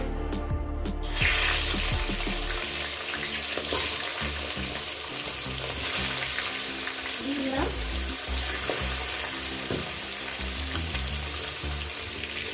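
Katla fish heads fry in hot salted oil with a loud, continuous sizzle and spitting crackle, close by and unbroken for the whole stretch.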